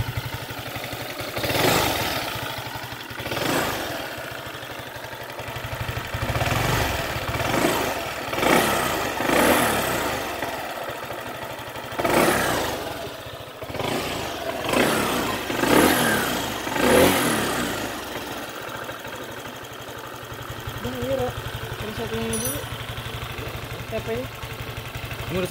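Honda PCX scooter engine running at idle on its first start, a steady mid-pitched hum with repeated short revs and bursts, close by, with people talking over it.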